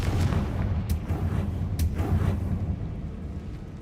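A Confringo blasting spell explosion in Hogwarts Legacy, a deep rumbling boom with a few sharp cracking bursts early on, then a fading low roar, loud and close.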